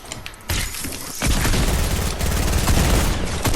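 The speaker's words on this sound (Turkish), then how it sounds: "Roket saldım." A rocket launcher fires in the Fortnite video game, a burst of loud booming blasts and rattling explosions layered densely over a few seconds.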